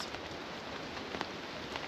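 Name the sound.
rain falling on campsite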